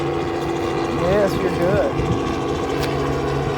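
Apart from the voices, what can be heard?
helicopter flying overhead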